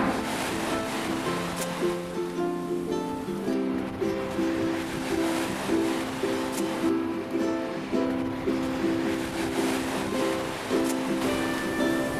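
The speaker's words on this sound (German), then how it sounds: "Und hier ist dann tatsächlich das Meer. Der Pazifische Ozean." Pacific Ocean waves in Japan wash steadily onto a beach in a continuous rolling surge, mixed with sustained tonal background music.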